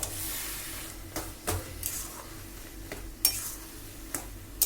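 Bottle gourd and prawn curry stirred in a pan after salt goes in, a run of repeated spoon scrapes and clinks against the pot with a faint sizzle underneath.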